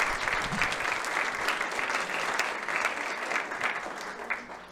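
An audience at an educational games award ceremony applauds the author of a board game, a steady, even round of clapping that holds through the whole stretch at moderate volume.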